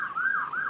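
Ambulance siren wailing loud and close, its pitch sweeping smoothly up and down in a continuous rising-and-falling tone with no talk over it.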